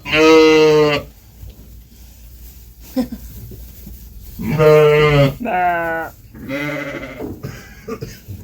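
Sheep bleat loudly nearby on a Bulgarian farm during lambing season: one long call, a quiet gap, then a cluster of three or four overlapping bleats.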